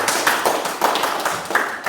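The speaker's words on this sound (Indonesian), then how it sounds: "Sekali lagi kita kasih aplaus untuk kita semua." Students in a classroom give a short round of applause, with quick, uneven claps that sound close by. The clapping goes on steadily for about two seconds and no one talks over it.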